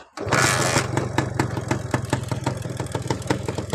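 A Honda Tena New motorcycle engine catches almost at once and settles into a steady, close, throbbing idle with an even pulsing rhythm.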